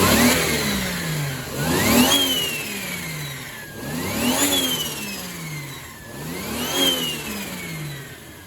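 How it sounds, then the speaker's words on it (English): A Toyota 2JZ-GTE turbocharged engine swapped into an Infiniti G35 is revved three times at a steady interval. Each rev rises to a loud, close roar with a rising turbo whine and drops back to idle between pulls. "just listen to the turbo on this thing, you guys. It is just so freaking loud."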